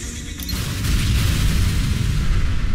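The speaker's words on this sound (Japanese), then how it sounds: "おー、爆発した" Animated explosion in a Skibidi Toilet short: a deep, heavy boom that swells within the first second and then rumbles on, loud and sustained, with a brief higher crackle at the start.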